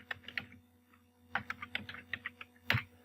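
Keyboard typing on a computer in short bursts of quick key taps with pauses between them, close and fairly quiet, with no voice over it.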